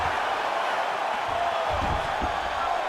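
Arena crowd noise in the UFC 5 video game, a steady broad roar of spectators swelling slightly in reaction during a ground exchange, continuous and fairly loud throughout.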